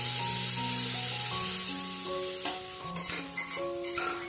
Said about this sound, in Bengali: মাখনের মধ্যে পেঁয়াজ আর রসুন আর আদাটা নাড়াচাড়া করে নিয়ে এবার এর মধ্যে দিয়ে দেব মাংস